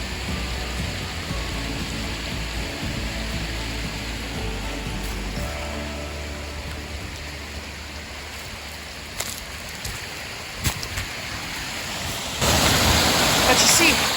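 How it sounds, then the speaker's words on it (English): Rushing waterfall by a mountain stream in drought-stricken Colorado, a steady broadband roar of falling water throughout, with brief voices in the background and the rush swelling louder near the end. "Oh, beautiful waterfall."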